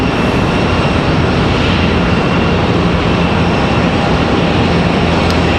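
A Swoop airliner departs past the terminal at Raleigh-Durham International, its engine roar a steady, loud, broadband rush that holds unbroken throughout.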